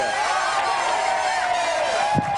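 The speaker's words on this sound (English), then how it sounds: "What a fantastic crowd, ladies and gentlemen!" A studio audience cheers and whoops as a comedian is brought on stage, a dense, steady wall of crowd noise with one brief louder shout near the end.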